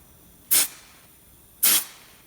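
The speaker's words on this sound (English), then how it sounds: "Let's just try the freezer spray again." Two short, bright hissing blasts of freezer spray on a faulty plasma cutter's circuit, about a second apart, close and loud over a quiet background.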